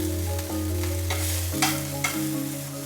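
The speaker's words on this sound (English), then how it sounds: "So we start here with the diced onion as well as the diced red pepper." Diced onion and red pepper sauté in a hot pan, a steady sizzle with a few stirring clatters, set against a sustained tonal music bed.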